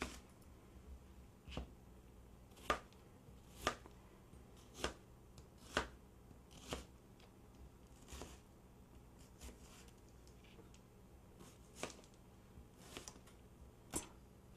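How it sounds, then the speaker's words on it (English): A small yellow onion is chopped on a board, a dozen or so sharp knife strokes spaced irregularly, quiet and close, with no voices. "I'm going to chop 1 small onion"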